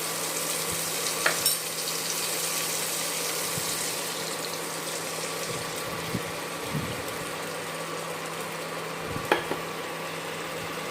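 Spice paste and tomato fry for a Bengali hilsa and eggplant curry, a steady sizzle running throughout with a few brief clinks of a spoon stirring the pan; no one speaks.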